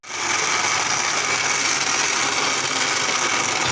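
Blender grinding mango margarita with ice, a loud, steady high-pitched motor whine running continuously and alone from start to finish.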